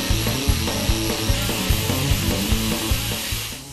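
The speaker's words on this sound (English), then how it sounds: "all we got left to do is grind some of this paint away" A grinder works paint off the steel bed of a 1949 Chevy 3100 truck, a steady high whine with rhythmic scraping pulses about twice a second, close and continuous.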